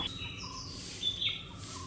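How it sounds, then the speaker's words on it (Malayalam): Birds chirp and call in the open air at a nature-friendly family resort in Kakkadampoyil, with short, fairly clear bright calls rising over a steady outdoor background. "എന്തൊക്കെയോ പക്ഷികളുടെ സൗണ്ട് ഇങ്ങനെ കേൾക്കാനുണ്ട്."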